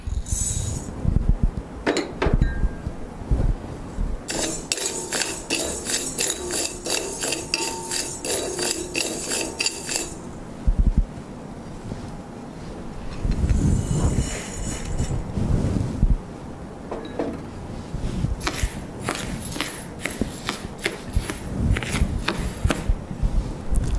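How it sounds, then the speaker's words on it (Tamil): Green gram dry roasting in a pan, with dry scraping and rattling of the grains against the metal coming in bursts, close and fairly loud. "அடுத்ததாக நம்ம வந்து பாசி பயிரை வறுக்கிறோம்"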